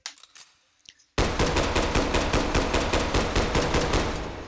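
An M1 carbine fires in the VR game H3VR: a few faint clicks, then a rapid, loud, even run of shots for over three seconds, close and unbroken.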